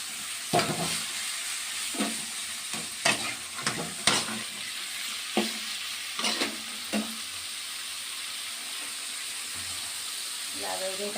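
Ridge gourd peel fries in a pan with a soft steady sizzle, punctuated by repeated knocks and scrapes of stirring at an uneven rhythm, and a brief voice near the end.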